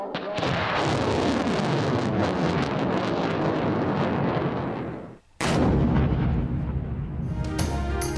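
Launch of a Pakistani Nasr short-range surface-to-surface missile: a long, loud, roaring blast that rumbles on for several seconds, cuts out briefly, then resumes with wind-buffeted noise.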